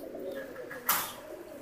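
Low, soft pigeon cooing hums steadily close by, interrupted midway by a brief rushing burst of noise.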